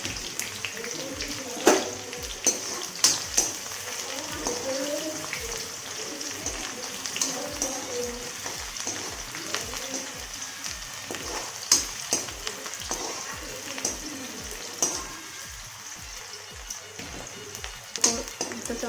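Dry chili and onion frying in a pan for a Chhattisgarhi leafy greens dish, a moderate steady sizzle with regular ticking clicks and faint background talk.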